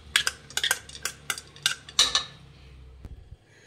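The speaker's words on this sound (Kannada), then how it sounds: "ತೊಗರಿಬೇಳೆ ಹಾಕ್ಕೊತಾ ಇದ್ದೀನಿ" Soaked toor dal is tipped into a pressure cooker, giving a quick series of sharp metallic clinks and taps from a vessel and spoon, then a final knock after a short pause, with no voices.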